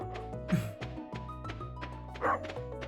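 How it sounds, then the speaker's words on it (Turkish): A pet dog in the video game Stardew Valley gives a few short yapping barks over looping game music and sound effects, with no speech. "Köpeği seveyim ya bunun."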